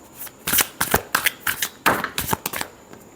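Tarot cards riffled and shuffled in a series of quick, crisp bursts of papery flutter and slaps, close and clear with no talking.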